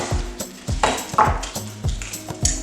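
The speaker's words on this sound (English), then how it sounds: "If you hear a dog barking, that's my persnickety standard poodle named Winston." A standard poodle barks and yips in a home kitchen, a rapid series of about six sharp barks close by, with no talking over them.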